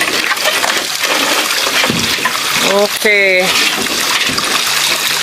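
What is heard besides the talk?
irrigation water overflowing from a drum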